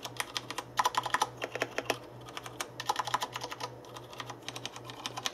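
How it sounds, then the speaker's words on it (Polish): Clicky bursts of typing on a CM Storm QuickFire Ultimate mechanical keyboard fitted with Cherry MX Brown switches, rapid irregular keystrokes in two flurries, close and moderately quiet, with no voices. "Jeśli chodzi o głośność Cherry MX Brown, wersja Brown jest jedną z najcichszych"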